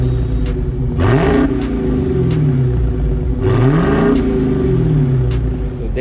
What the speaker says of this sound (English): I want to get a couple of revs before and after, so we can do a sound comparison